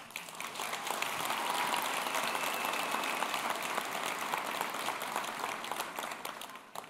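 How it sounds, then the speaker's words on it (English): Sustained applause from a large audience fills a 2022 commencement ceremony of the Betty Irene Moore School of Nursing at UC Davis, a dense, steady wash of many hands clapping at once, fairly loud and continuous throughout. "please give yourself a round of applause"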